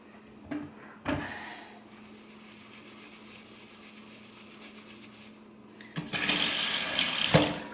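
Tap water runs while a makeup foundation brush is washed, with a few clunks and knocks at a sink before the faucet opens into a loud, steady splashing stream near the end.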